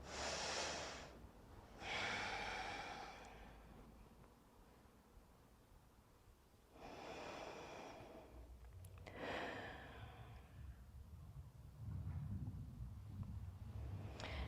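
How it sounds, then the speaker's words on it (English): Slow, deep breaths during a Pilates class, heard as breathy inhales and exhales that come in long swells with quiet pauses between them, close and soft. "Two more big deep breaths"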